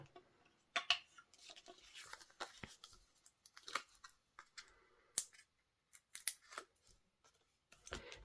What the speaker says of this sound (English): I'm going to use some tear and tape so that I don't have liquid glue everywhere. Just a couple strips of it.